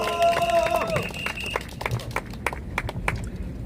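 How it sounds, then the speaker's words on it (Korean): At an outdoor press conference in front of the Supreme Court, a brief tonal sound gives way to a thin spatter of scattered handclaps from a small audience, with voices faintly mixed in. "여러분 박수 부탁드립니다."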